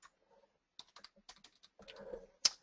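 Typing on a computer keyboard: sparse, crisp key clicks at an irregular pace, close and quiet against a near-silent background, ending in a slightly louder flurry of keystrokes, with no talking.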